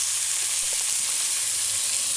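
Onions sizzle while sautéing in a stovetop pan for hamburgers, a steady bright hissing fry with faint crackles, constant and close for a couple of seconds with no talking.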